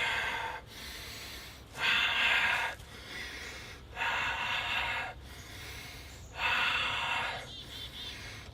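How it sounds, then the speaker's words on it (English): Heavy breathing during a shoulder press set in a resistance training session, with four loud, forceful exhalations in a regular rhythm separated by quieter inhales, close to the microphone. "Breathing."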